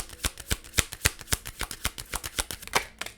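Tarot cards are shuffled in a steady run of crisp riffling snaps, about a dozen quick slaps in a row, close and fairly quiet with no talking.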